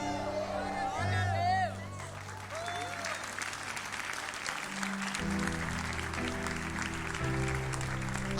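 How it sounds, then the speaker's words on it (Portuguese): A church congregation at an Easter celebration applauds amid cheers and shouts, with music and a voice over the sustained clapping throughout. "Aplauda mais forte."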